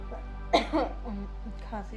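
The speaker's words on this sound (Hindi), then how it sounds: "खांसी भी आ रही है" A woman coughs briefly, close to the microphone, in a quiet room. One or two short harsh bursts and a throat-clearing sound over a steady low hum.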